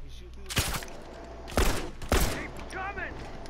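Gunfire in The Last of Us Remastered multiplayer: three loud, close bursts of shots spaced across a few seconds over a low game ambience, with brief voice-like sounds between.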